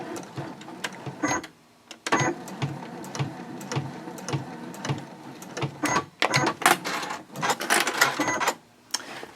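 Sewing machine back-stitching a clear-view project pouch, with bursts of rapid mechanical stitching separated by brief pauses and a few sharper clicks, loud and close.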